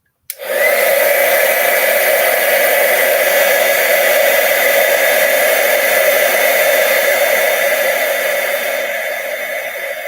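A heat tool blows a steady, loud whirring hiss while warming a small cardmaking piece held in reverse tweezers; it starts abruptly and runs continuously, easing slightly near the end.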